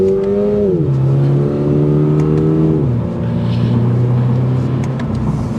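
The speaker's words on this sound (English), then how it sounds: "That catback exhaust sounds a lot better than the premium." A 2023 Toyota GR86 Special Edition with a catback exhaust revs up and settles in steps, its loud, droning exhaust note rising and falling in pitch across several seconds with no talking.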